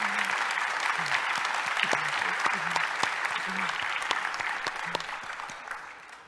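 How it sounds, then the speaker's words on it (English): Steady applause fills the room at an awards luncheon, many hands clapping together at moderate distance, holding for several seconds before gradually tapering off. "Can I get another round of applause?"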